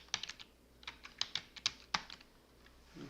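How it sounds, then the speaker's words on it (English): Quick irregular clicks of a computer keyboard as a name is typed, about a dozen light keystrokes in short bursts, close and fairly quiet with no talking. "let's type in a name here"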